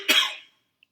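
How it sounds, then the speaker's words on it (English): A single sharp cough, close and loud, fading quickly into silence. "Cough."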